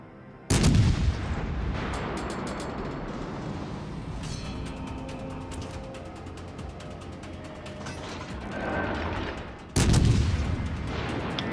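Heavy cruiser guns in the naval video game World of Warships Legends fire two sharp, booming salvos, one near the start and one near the end, over a constant rumble of ship engine and battle noise.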